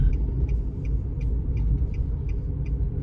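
Traffic rumble from cars on a road in Japan, a steady low drone of engines and tyres with vehicles pulling up alongside, continuous and fairly close with no talk.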